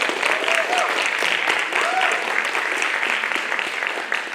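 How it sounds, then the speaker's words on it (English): An audience at a comics challenge claps for Scarlett in a continuous, even round of applause throughout, with faint voices mixed in beneath. "a round of applause for Scarlett"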